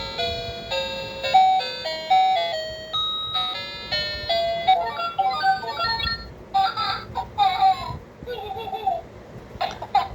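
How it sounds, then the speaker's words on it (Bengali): A baby piano play mat toy plays a bright electronic melody of clean repeating tones, steady and close, shifting into busier jingle-like tunes partway through. "লাথি মারবে আর মিউজিক বাজবে"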